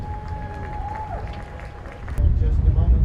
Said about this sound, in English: let's give a round of applause for the ladies in red